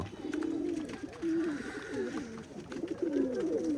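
Pigeons cooing in a loft, several birds producing overlapping low, throaty warbling coos in repeated rolling phrases, fairly close and continuous throughout.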